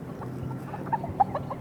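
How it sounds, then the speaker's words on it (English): A few faint, brief clucks from chickens hidden in trees beside a historic house, two short calls standing out over quiet outdoor background. "Okay, we got chickens right over here apparently."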